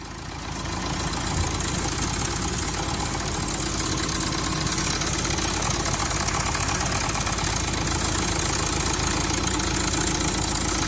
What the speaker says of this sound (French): D'accord, démarrons le moteur maintenant